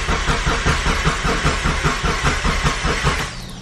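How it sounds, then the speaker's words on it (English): A Mitsubishi Evo 5 with a built engine cranks on its starter, a loud, close, rapid rhythmic churning that goes on for several seconds without catching. "I don't want to kill the starter. I'm cranking again."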